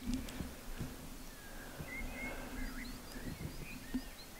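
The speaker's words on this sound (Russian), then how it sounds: "Такая тишина, пение птиц." Faint birdsong in a quiet Dagestan canyon, scattered high chirps and short whistled phrases coming from a distance over a low, hushed background.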